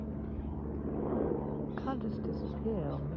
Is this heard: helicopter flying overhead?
yes